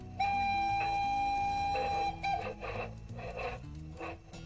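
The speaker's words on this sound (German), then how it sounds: "So, dann hören wir mal die Pfeife." A sound-decoder steam whistle from an LGB 995001 model steam locomotive sounds a steady high tone for about two seconds, followed by chuffing bursts, all fairly loud and close with no talk.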